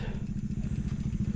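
A motorcycle climbing the steep, winding Snake Road toward Tagaytay, its engine chugging in a fast, pulsing rhythm, close and loud for a brief moment.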